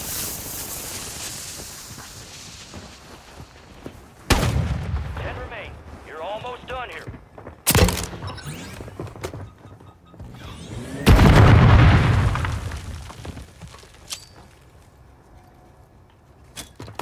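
Mortar strikes in the video game Warzone land as several heavy booming explosions spaced apart, each a sharp loud burst with a rumbling tail, amid quieter game noise and talk.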